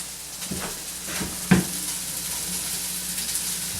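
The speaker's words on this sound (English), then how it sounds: "now I'm going to add some fresh onion here" Fresh onion frying in a hot pan, a steady sizzle with a few soft stirring knocks and one sharper clatter near the middle.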